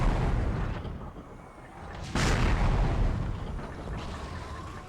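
Booming cannon blasts from the Darkwatch video game, a heavy explosive report near the start and a sharper, louder blast about halfway through, each trailing off in a rumbling decay.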